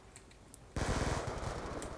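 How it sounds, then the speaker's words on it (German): A burst of rapid automatic weapon fire in Black Ops 2 starts abruptly after a quiet moment of faint clicks, then rattles on in quick even shots, loud and close. "Oh, ich habe jetzt auf eine eigene geschossen."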